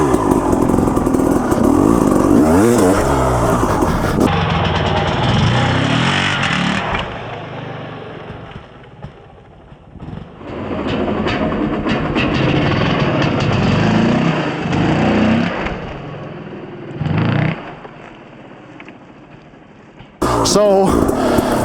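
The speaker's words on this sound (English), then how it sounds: "I use the clutch and throttle simultaneously to get the first punch or blip of the throttle." An enduro motorcycle engine close by, loud bursts of throttle that rise and fall in sharp blips, with short drops toward idle between the revs.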